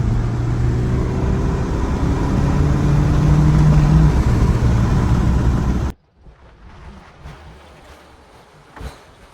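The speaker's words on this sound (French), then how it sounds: "on va pouvoir faire chauffer la voiture maintenant" A 2013 BMW 118i F21 M Sport idles steadily while warming up, a loud, close, even engine drone that cuts off abruptly partway through, leaving quiet room noise with faint knocks.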